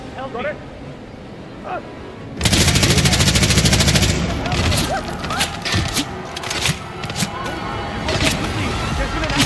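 Gunfire in the stealth video game Hitman World of Assassination: a sudden loud burst of rapid automatic shots erupts after a quiet stretch and continues in sharp bursts, with someone talking over it.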